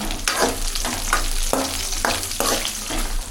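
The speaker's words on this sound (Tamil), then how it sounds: "ஆட் பண்ணிவிட்டு நல்லா வதக்கி விடுங்க." Cashews and capsicum sautéing in a pan for red dragon chicken, a continuous bright sizzle broken by several sharp scrapes and knocks as a spatula stirs them around.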